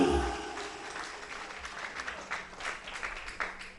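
A crowd at a vocational school farewell ceremony applauds Yayasan Putra Harapan, a moderate, somewhat distant patter of clapping that rises at the start and continues unevenly, with a faint voice underneath.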